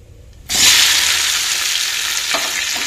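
Onions hit hot tempering oil with a sudden loud burst of sizzling after a quiet moment, then settle into a strong, steady hiss with a faint clink.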